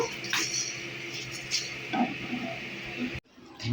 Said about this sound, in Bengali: এটাকে আমরা ভালো করে আগে শুকনো খোলায় ভেজে নেব